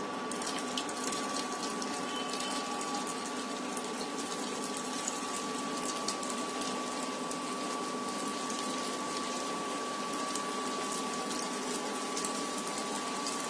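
Potato slices for crispy homemade chips fry in hot oil, giving a steady, loud, dense crackling sizzle that holds evenly throughout with no talking.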